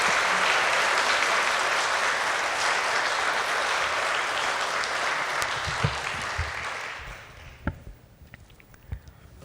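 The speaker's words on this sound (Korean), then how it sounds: "귀한 박수로 모시길 바랍니다" Church congregation applauds to welcome a pastor, a full steady round of clapping that fades out after about seven seconds, leaving a few scattered claps.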